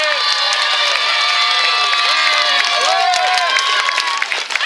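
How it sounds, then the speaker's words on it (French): At a fight event a crowd applauds and cheers for the fighter El Matador, a loud continuous roar of voices with whoops and shouting layered over clapping. "On peut applaudir El Matador,"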